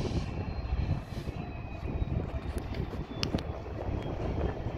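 Diesel locomotive exhaust from a freight train working a 100-car consist, a steady loud rumbling roar with low throb and a few sharp higher clanks over it, no voices.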